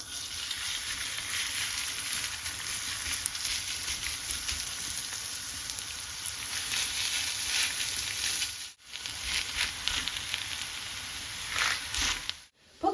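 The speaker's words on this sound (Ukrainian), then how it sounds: "наша картопля смажиться" Potatoes sizzling and crackling steadily in a hot frying pan, close up, with a brief break near the end.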